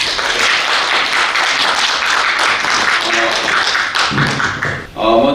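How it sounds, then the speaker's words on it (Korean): Steady applause from an audience filling a large National Assembly Library auditorium in Seoul, welcoming a speaker to a legal forum, dense clapping held at an even level throughout, with a brief dip near the end before it swells again. "박수로 모시겠습니다."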